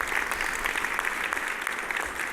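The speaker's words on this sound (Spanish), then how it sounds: "Dale un fuerte aplauso a Dios." A crowd at a church service claps steadily in a dense, continuous burst of applause, loud and close, without a break.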